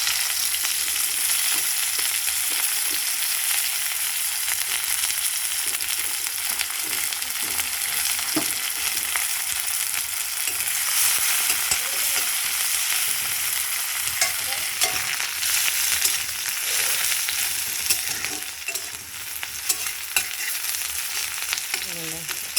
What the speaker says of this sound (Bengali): কালো জিরা ফোড়ন দিয়ে পেঁয়াজটা দিয়ে দিলাম